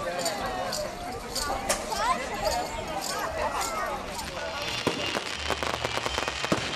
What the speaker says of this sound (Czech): Sobotní večer ukončil velký ohňostroj.